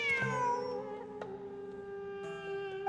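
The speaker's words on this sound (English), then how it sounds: "Wait, there it is! The cat!" A cat meows in Genshin Impact, heard as a clear, tonal, drawn-out call near the start followed by a sustained higher mew, set over soft game music.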